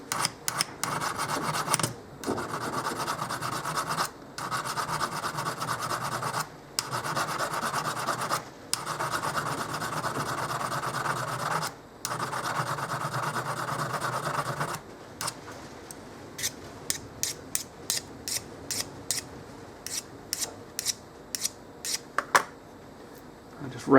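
A hand file rasps along the hardened edge of a metal arm, rounding it over in long steady back-and-forth strokes, then switching to a quicker run of short, light scraping strokes.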